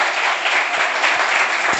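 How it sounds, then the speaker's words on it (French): A school audience at a class competition applauds loudly, a sustained wash of clapping with a few heavier hand claps standing out. "On les applaudit très fort."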